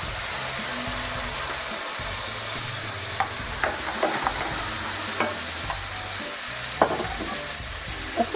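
Tomatoes added to wilted, lightly salted onion in a hot pan sizzle in a steady, dense hiss, with occasional sharp pops and spatula scrapes close by.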